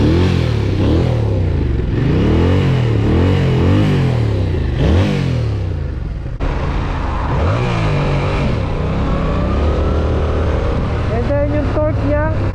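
A 2021 Yamaha MT-07 motorcycle with the crossplane CP2 twin engine revs loud and close through its exhaust, rising and falling in repeated throttle blips with a steady idle rumble between them.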